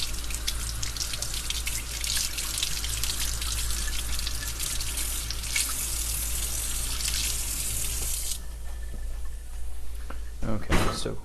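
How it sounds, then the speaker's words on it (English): Wine cap mushrooms with leftover straw and dirt are rinsed under a running tap, a steady rushing stream that drops off near the end, with a person talking over it. "I'm going to wash these wine caps real quick because they've got some residual straw and dirt on them"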